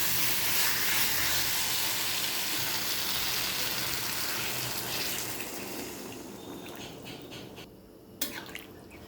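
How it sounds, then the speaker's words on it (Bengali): Water poured into a frying curry in a pan, a broad hissing splash and sizzle that gradually fades and quiets, ending with a few faint clinks. "এবার এর মধ্যে দিয়ে দেবো জল।"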